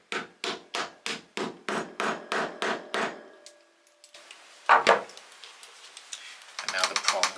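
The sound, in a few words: hammering clasp prongs flat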